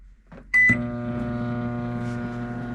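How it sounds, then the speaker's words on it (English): A beep, a door thud and then the steady electric hum of a microwave oven heating SpaghettiOs and meatballs, heard up close and running on evenly. "Put them in this here microwave thingy."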